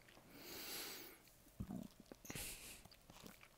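A faint, low gurgling rumble from a stomach, a few soft bubbling bursts in an otherwise quiet space.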